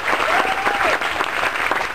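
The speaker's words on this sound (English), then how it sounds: "So please give them a huge round of applause." Cruise ship theatre audience gives a big round of applause for the Motor City cast, a loud dense wash of clapping from a crowd, with a faint whistle early on.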